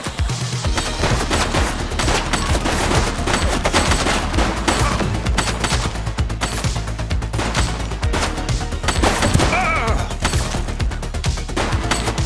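Dense, sustained gunfire in the police video game The Precinct, with rapid overlapping automatic bursts and shots firing nonstop at high volume for the whole stretch.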